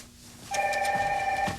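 A telephone rings once in an office scene from a 1990 soap opera, a steady electronic trill lasting about a second, close and clear over quiet room tone.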